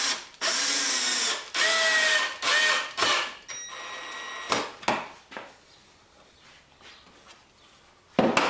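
A power drill boring through knotted wood for a cat house, loud and close, running in several sustained bursts that strain and slow through the knot, then tapering into quieter taps and handling noise.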